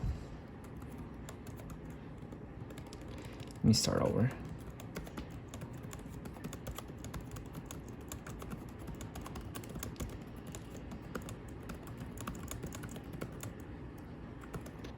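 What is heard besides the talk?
typing on a laptop keyboard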